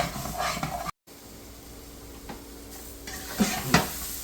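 Spices with coriander and cumin powder sauté in a kadhai, giving a soft sizzle broken by scraping stirs and a couple of louder utensil knocks near the end, close with no talk.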